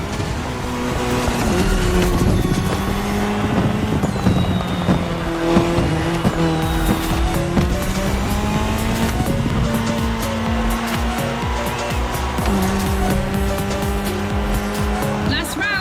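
Rally cars including an Audi S1 EKS RX Quattro and a Ford Puma Hybrid Rally 1 race off the start in The Crew Motorfest, engines roaring loud and continuous with shifting revs and tire squeal under a commentator's voice.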